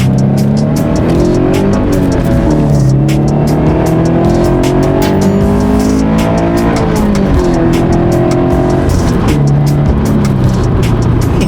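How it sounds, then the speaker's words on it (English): Loud car driving by at a gathering of Subaru BRZ, Toyota 86 and GR Corolla sports cars, its engine note rising and falling with revs and tire noise, close and dominant with no talk. "Oh my god, that car's so loud."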